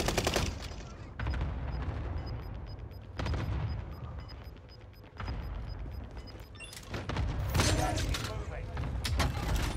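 Video game gunfire pounds in repeated bursts of loud rapid shots separated by brief quieter gaps, with a few sharp metallic clicks and heavier booming hits mixed in.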